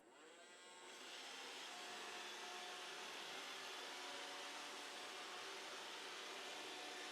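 A Roomba robot vacuum runs after a side brush motor repair, giving a steady whirring hum that rises over the first second and then holds even and continuous, with no talking.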